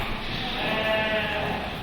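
A Cameroon goat and her young kids bleat in an enclosure at the Kazan zoo, a steady close bleating sound over a noisy background.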